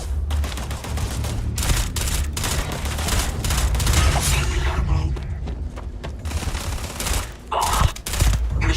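Gunfire in the video game Starfield: loud, close bursts of rapid automatic fire with heavy thumps, broken by brief pauses and overlapping shots, continuing across the whole stretch.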